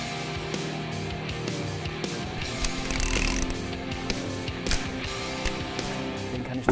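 A ratchet wrench loosening a combustion chamber temperature sensor, with repeated rapid pawl clicks running steadily throughout, close and moderately loud, with a brief burst of heavier mechanical noise midway.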